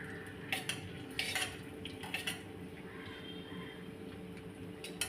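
Ginger dropped into hot oil in a pan for a Navara fish curry, stirred with a metal utensil that clinks and scrapes against the pan in irregular taps over a faint low sizzle, quiet and close.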